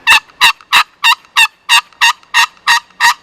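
A Lil' Sly hybrid turkey call gives ten evenly spaced, loud, throaty yelps in a quick steady rhythm, close and alone against silence.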